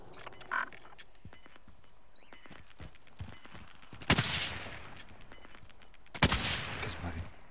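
Sharp bursts of video game gunfire crack out twice, each followed by a noisy decay, amid scattered clicks and a faint electronic beeping.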